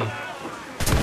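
Ship cannon fire in the pirate video game Assassin's Creed IV Black Flag: a single sudden loud boom bursting in after a quieter stretch of game ambience, close and heavy.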